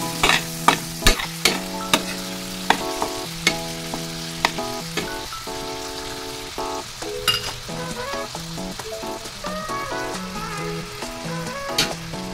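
Ground pork sautés in oil in a pan with a continuous sizzle. Frequent metallic scraping and clinking from a spatula stirring the meat sits over it, close by, and no one talks.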